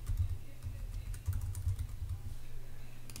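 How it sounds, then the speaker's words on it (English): Typing on a computer keyboard while drafting a SketchUp plan, a quick close run of soft key clicks with a low hum beneath. "So I'll just type in no scale."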